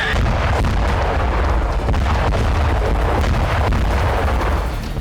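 Heavy, continuous rumbling blasts with sharp bursts layered over a dense roar, loud and close, with no voices.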